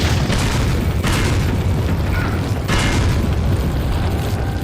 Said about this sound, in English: I hear sound. Grenades.